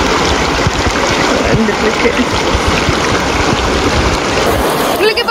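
Stream water rushing over rocks at Wadi Hoqain in Oman, a loud, continuous close splashing babble with a brief spoken word over it near the end.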